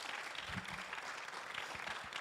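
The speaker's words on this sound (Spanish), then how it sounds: "Give a loud applause to the Lord." Church congregation applauding the Lord during a bilingual Spanish-English sermon, a steady dense wash of clapping from many hands that holds evenly throughout.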